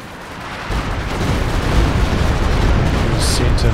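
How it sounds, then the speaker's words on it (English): Walking Stuka rocket barrage in Company of Heroes 2, a rising roar of rocket launches and impacts that builds and stays loud, with scattered sharp bursts near the end. "here comes another walking Stuka"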